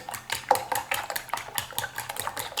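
Eight eggs with chopped scallions, chili and salt whisked briskly in a bowl, with quick, rhythmic clinks of a utensil against the sides, close and continuous, no voices.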